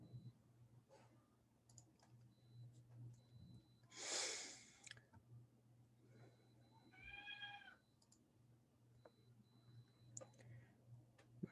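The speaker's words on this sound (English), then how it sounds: "Cat just had babies, so she's acting a little bit, needs some help." Mother cat with newborn kittens meowing once in a short harmonic call, heard alongside a sharp burst of noise, faint ticking clicks and a steady low hum indoors.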